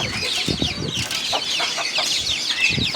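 Small chicks chirp and cluck inside a cage, a steady stream of overlapping high peeps with a few scattered lower clucks and rustles, fairly close, with no talk.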